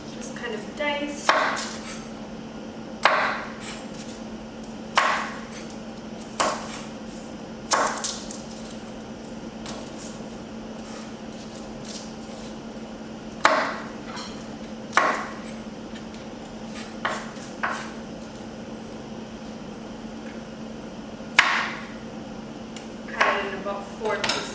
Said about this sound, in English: Just kind of dice.